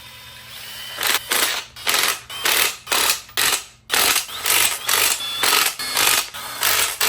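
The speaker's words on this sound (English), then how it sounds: "we're going to do our torque sequence" A torque wrench ratchets down the bedplate bolts of a BMW N55 engine: loud, close strokes of rapid pawl clicking, repeated about a dozen times in a steady back-and-forth rhythm, without speech.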